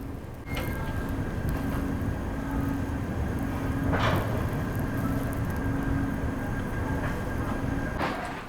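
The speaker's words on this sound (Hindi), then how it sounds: "अभी ट्रेन रुकी है और वापस से चल दी है फिलौर जंक्शन से।" Shri Shakti AC Express pulling away from Phillaur Junction in dense fog, heard from on board: a steady, loud rolling rumble with a constant hum and a few brief clicks and knocks from the rails.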